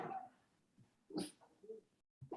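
A pet dog at home gives soft yips and whimpers that come in short, separate bursts with quiet gaps between them. The dog is fairly faint, with a few light background noises around it.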